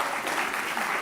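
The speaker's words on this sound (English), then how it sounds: "Don't stop clapping." Convocation audience at a law school clapping continuously, a brief, dense burst of many hands applauding at steady moderate volume.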